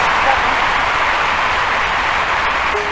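Broad, sustained applause and cheering from a stadium crowd at the London 2012 discus event, a steady wash of clapping that fills the whole moment without a break.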